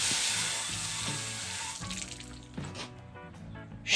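Water streams and splashes over a Honda Fury motorcycle during a rinse after washing. The spray is steady and hissing near the start, then turns uneven and spattery as the flow shifts, with no talking.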